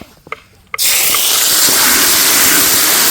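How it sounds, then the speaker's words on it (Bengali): Bay leaf, dry red chilli and cumin seeds dropped into hot oil for dal tempering, with a couple of small clinks, then a sudden loud hiss that stays strong and steady. "তো ডালটা সম্বার দেওয়ার জন্য আমরা দিয়ে দিচ্ছি তেজপাতা এবং শুকনা লঙ্কা, আচ্ছা, এবং জিরা।"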